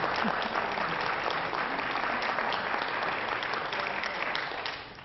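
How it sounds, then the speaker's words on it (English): An audience applauds steadily and warmly for several seconds, the clapping fading slightly toward the end. "I think that deserves a round of applause."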